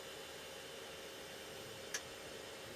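A single sharp click from the modem of a 1990s PC as it initializes, heard once, short and fairly near, over a faint steady hum of computer fan noise; no voices.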